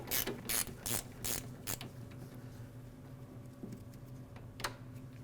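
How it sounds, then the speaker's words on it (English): A wrench ratchets out a 10mm headlight screw behind the grille of a 2009-2010 Dodge Ram 1500, several quick clicking bursts in the first two seconds, then a faint hum and one last click. "Remove it with a wrench."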